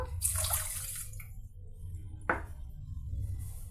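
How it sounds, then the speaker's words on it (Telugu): Water splashes and pours into a pot of sugar in a short gush, then a second brief pour, over a low background hum. "దీనికి 3 వంతులుగా వాటర్ యాడ్ చేద్దామండి"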